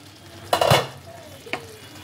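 Chili paneer being stirred in a pan, with two distinct scraping strokes of a spoon against the pan, the first louder and longer, over a quiet background.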